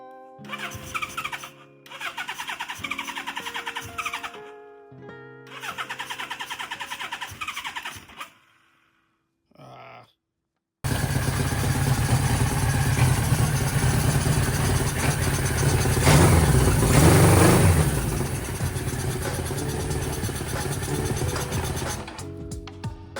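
A 1978 Suzuki GS1000C motorcycle, an old storage-unit find, turns over in several short cranking attempts with pauses. The engine then fires and runs loud and steady, revving up midway before settling.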